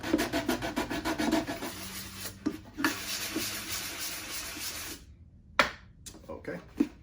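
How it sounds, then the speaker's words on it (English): Close, steady rhythmic rubbing of sandpaper flattens a wooden sleeper for a 1/16 scale model, with back-and-forth strokes that pause briefly and then resume in a few scattered scrapes. "I get this all sanded down flat"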